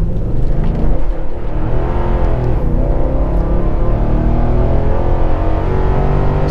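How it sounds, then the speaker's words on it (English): A Nissan Titan Pro4X pickup truck accelerates hard uphill from 0 to 60, its engine a loud, continuous deep roar that stays strong and steady throughout, close and alone. "we're gonna do a very unscientific 0 to 60 here"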